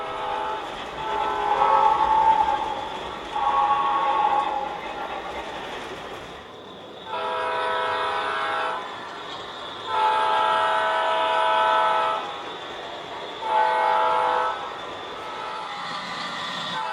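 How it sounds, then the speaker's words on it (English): An O gauge model train runs along a layout under overhead catenary wire, giving a steady rumble with repeated horn or whistle blasts in bursts through the stretch, fairly close and alone with no talk. "Running under catenary is a very unusual sight on any model railroad"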